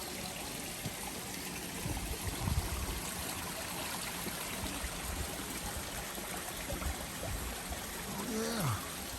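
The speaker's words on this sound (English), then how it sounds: "And this water is just running off the mountain. Just coming directly out of the top of the mountain. Just running downhill." A mountain stream runs downhill through rain forest, a steady broadband rush and trickle of water at moderate distance, continuous throughout with a faint brief creak near the end.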